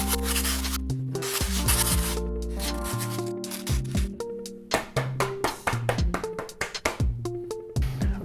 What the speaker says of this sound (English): we're gonna sand off the edges of the board